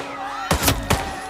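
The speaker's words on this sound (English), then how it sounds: "Where am I getting shot at from?" Two sharp gunshots ring out in the Hitman VR video game, closely spaced and loud with short echoing tails, over a faint steady background tone.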